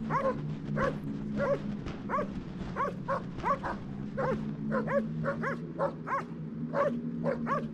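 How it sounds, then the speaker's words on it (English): Puppies in an Arctic snow igloo yip and whimper over and over, a busy run of high, thin cries close by, with a steady low hum beneath. "The tiny igloo Nanook made for the puppies has kept them warm all night"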